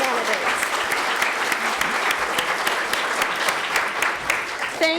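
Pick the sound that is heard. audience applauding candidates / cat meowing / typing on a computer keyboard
audience applauding candidates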